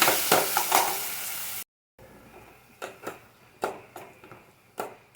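Onions dropped into hot oil in a pan for a bitter gourd curry: a loud, broad sizzle at first, a brief silence, then softer sizzling broken by several sharp taps and scrapes of stirring.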